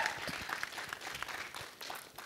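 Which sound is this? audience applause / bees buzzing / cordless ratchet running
audience applause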